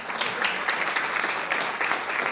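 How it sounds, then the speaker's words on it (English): Audience applause at a civic Tiger Bay Club meeting, a steady, moderately loud wash of clapping for a couple of seconds. "Please give him another round of applause."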